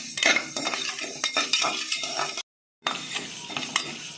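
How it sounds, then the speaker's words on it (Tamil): Dry lentils rattle and scrape as they are dry-roasted and stirred in a metal pressure cooker, with a brief cut to silence midway. "இந்த பருப்பை நம்ம ஒரு குக்கரில் போட்டு வறுத்து எடுத்துக்கோம்"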